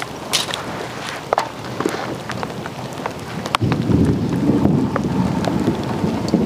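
Rain falls steadily while rumbles of thunder roll in, the downpour growing noticeably louder and denser partway through, with a few sharper knocks close by.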